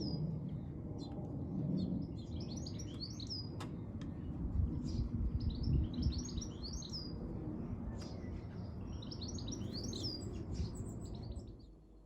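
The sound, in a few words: blackbirds singing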